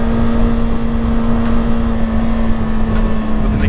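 2021 Kawasaki Ninja ZX-6R 600cc sportbike engine held steady around 6,200 RPM, a loud, continuous close-up drone with a strong steady hum and vibration, no talking.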